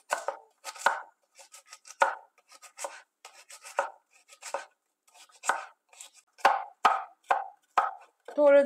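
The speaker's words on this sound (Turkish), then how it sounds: "Öncelikle kuru soğanımızı yemeklik olarak doğruyoruz." A knife chops dry onion on a board, a steady run of crisp, close taps with short pauses between bursts, no voices over it.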